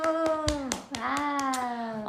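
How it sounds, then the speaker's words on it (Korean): A small group claps during a Korean radio show as a guest is welcomed, a brief burst of quick hand claps mixed with overlapping cheerful voices. "오, 박수."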